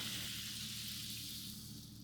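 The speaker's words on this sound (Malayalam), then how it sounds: "ഇതുപോലെ എല്ലാ പൂരിയും വറുത്തെടുക്കണം." Poori frying in hot oil, a steady, fairly faint bright sizzle that holds evenly throughout with no voices.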